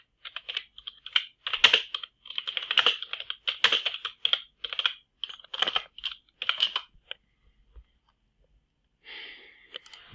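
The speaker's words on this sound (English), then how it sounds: "let me type that up as well, pilgrims upon the earth." Bursts of quick clacking keystrokes on a computer keyboard come in close, uneven runs, then pause before a final short flurry, with no voices.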